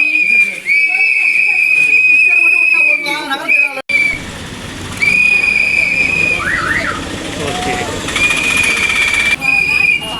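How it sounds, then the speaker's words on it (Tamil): Shrill whistles blow repeatedly in long piercing blasts at an outdoor political party gathering going house to house, with shouting voices and crowd noise around them. "விசில்"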